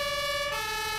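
Ambulance siren in Farming Simulator 19, a steady harmonic wail holding loud and continuous throughout, with no talk over it.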